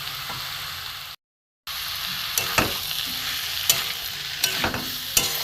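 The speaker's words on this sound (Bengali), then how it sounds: "ভালো করে কষিয়ে নিই।" Banana stem cooked in mustard paste being stirred and fried in a pan for a dry vegetarian Bengali dish, with a steady sizzle throughout, a short gap, and recurring scrapes of the spoon against the pan, with no talking.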